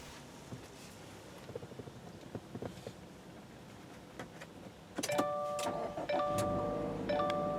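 Push-button start of a 2018 Subaru Forester Touring: quiet cabin ambience and faint clicks, then a jump in level as the engine catches and settles into a steady hum, with bright electronic chime tones ringing alongside.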